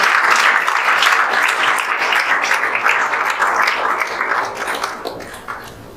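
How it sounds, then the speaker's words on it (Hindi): Audience applauding in a room for a student's JEE Main 2024 result, loud close clapping from many hands that stays dense and then gradually thins and fades toward the end. "जोरदार ताली बजा दीजिए आप"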